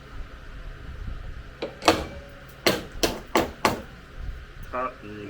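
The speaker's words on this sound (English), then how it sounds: "I'm gonna see if I can hammer that in there." Hammer blows on a caved-in body panel of a Comanche truck: a handful of sharp metallic knocks, a few spaced apart then three or four in quicker succession, fairly close, with a brief voice near the end.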